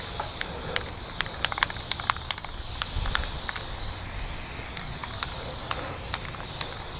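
Spray paint hisses from an aerosol can onto a homemade Halloween trick-or-treat delivery chute. The spraying is fairly faint and steady, with short clicks and taps scattered through it.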